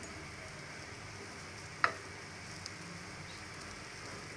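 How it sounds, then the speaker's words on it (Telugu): Pieces of pendalam purple yam frying in a pan, a steady soft hissing sizzle with a faint crackle and one brief clink of a stirring utensil, heard alone without talk. "ఓకే, ఫ్రై అవుతుందండి."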